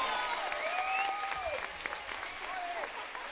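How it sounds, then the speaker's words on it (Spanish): Audience applauds a music band at a cultural association event, steady crowd clapping with a few whistles and cheering voices rising over the sustained applause. "Ese fuerte aplauso para la banda de música, por favor."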